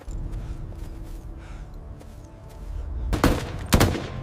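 Gunfire in a 1942 desert battle assault, a low rumbling backdrop broken by two sharp, loud shots near the end.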